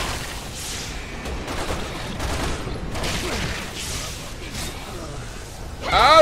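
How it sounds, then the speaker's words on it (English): Scattered gunshots in the video game Resident Evil 6, several sharp cracks at irregular intervals under a busy background, with a voice talking briefly. "That's a fucking sniper."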